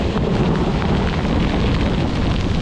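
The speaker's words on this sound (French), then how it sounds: "Voilà, du tonnerre." Rumbling thunder during rain on a cycling trip near the French border, a dense, steady low roar with rain hiss filling the whole stretch, close and loud, no voices.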